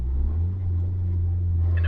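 A 2001 Mazda Protege's little 4-cylinder engine drones low and loud from inside the cabin, its exhaust knocking against the bumper as a faint rattle under the steady hum.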